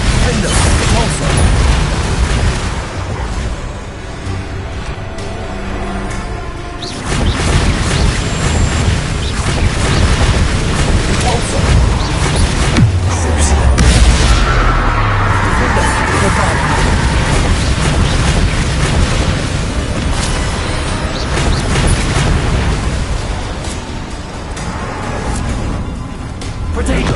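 Bombarda explosion spells cast in the Hogwarts Legacy video game, loud dense blasts and booms rolling over a constant wall of combat noise, with voices present throughout.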